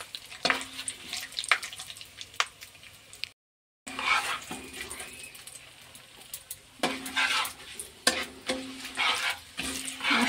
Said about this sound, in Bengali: মশলাটাকে ভালো করে ভেজে নিতে হবে।